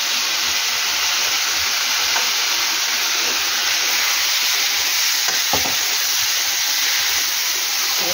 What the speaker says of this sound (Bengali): গ্যাসটা আস্তে দিয়ে নাড়াচাড়া করবো বন্ধুরা ভালো করে